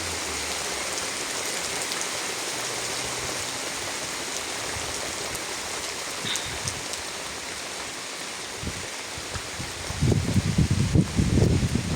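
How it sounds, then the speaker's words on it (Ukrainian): Steady rain falls outdoors in the countryside near a vegetable garden during an autumn day of on-and-off showers, a continuous even hiss with a few heavier pattering bursts and low rustles toward the end. "Сьогодні цілий день так по нападами дощ йде."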